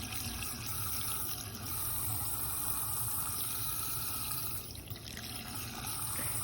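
Water runs steadily into the radiator of a Ford Mustang, a continuous loud rushing and splashing that stays even throughout, with no speech.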